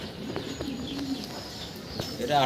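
King pigeons coo softly in a loft with eggs in the nest, several low throaty calls repeating over a faint background hum, no voices.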